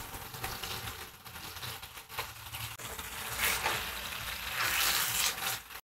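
Tomato puree sizzling in an oiled gravy base for cabbage pakoda curry, a steady close frying hiss with scraping stirs that swells louder toward the end, no voices over it.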